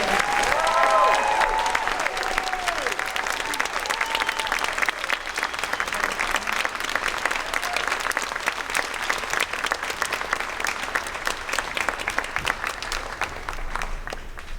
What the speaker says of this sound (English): Please join us in a round of applause for our fifth graders.